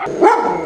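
A single short dog bark or yip, loud and close, on a walk past welcoming village dogs.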